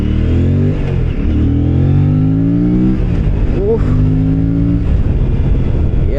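An Aprilia RS 457 motorcycle on a test ride revs up and down through its gears. The engine note is loud and close, rising and falling repeatedly without a break.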